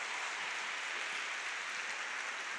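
Church congregation applauding, a soft, distant wash of steady clapping that fills the space evenly without voices standing out.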